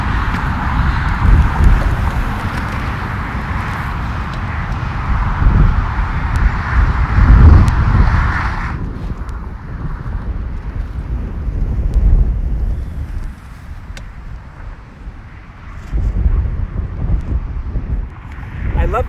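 Strong wind roars and buffets the microphone throughout a power kite buggy ride, with a steady rushing noise that rises and falls in gusts and briefly eases partway through.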